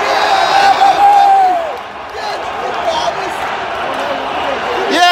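A hockey arena crowd of Flyers and Penguins fans roars and cheers loudly, a dense swell of voices with whoops that dips briefly and builds again, close and reverberant.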